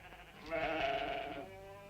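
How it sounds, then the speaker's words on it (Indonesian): A single goat bleats once, a wavering nasal cry lasting about a second, fairly close and alone against a quiet background. "Lah itu yang di luar kambing siapa?"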